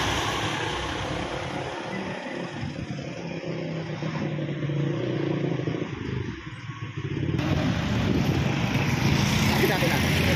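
A motorcycle engine rumbles nearby and grows louder toward the end, with people talking over the outdoor noise.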